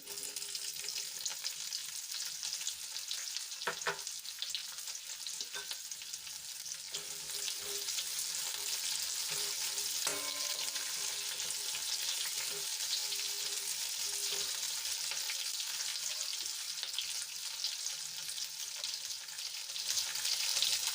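Onions frying in a pan with bay leaf, cinnamon, cloves and star anise for a capsicum gravy, a steady close hiss of sizzling oil with occasional faint stirring taps.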